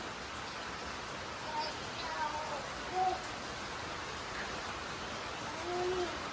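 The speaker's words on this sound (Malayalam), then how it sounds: "മഴയാണല്ലോ" Rain falls outside a house in a steady, even hiss that persists throughout at moderate level, with faint distant sounds and a few soft tonal calls over it.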